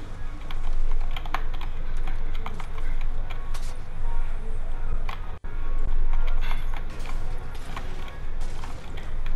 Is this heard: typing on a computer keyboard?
yes